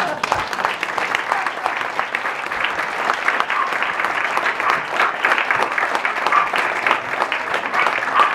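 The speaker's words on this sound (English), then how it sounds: "He was applauding." Steady audience applause at a bookstore author event, dense continuous clapping from a sizable crowd that holds at an even level throughout, with no voices rising above it.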